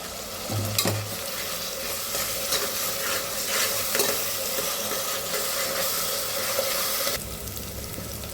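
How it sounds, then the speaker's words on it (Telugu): Onions and green chilies fry and get stirred in a pan, a steady sizzle running throughout with scraping stir strokes near the start and a few louder clatters along the way, close and continuous with no talking. "ఇవి ఉల్లిపాయలు పచ్చిమిరపకాయలు మనకి చక్కగా ఫ్రై అవ్వాలి."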